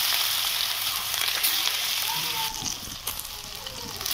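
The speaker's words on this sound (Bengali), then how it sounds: "কড়াইয়ের মধ্যে তেল গরম করে দিয়ে দিলাম" Pieces coated with salt and turmeric fry in hot oil in a kadai, producing a bright, steady sizzle with bursts of spattering and bubbling that ease slightly toward the end.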